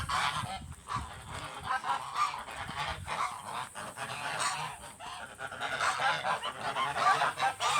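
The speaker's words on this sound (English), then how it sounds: "There's the geese." A flock of geese honking continuously and loudly nearby, many overlapping calls forming a dense, raucous chorus.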